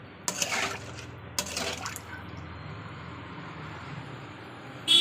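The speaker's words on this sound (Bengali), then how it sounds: "তো এবার জল দিয়ে দিচ্ছি।" Water poured into a cooking pot of potatoes, a short splashing pour near the start and a second brief pour shortly after, then quiet kitchen background with a small clink at the end.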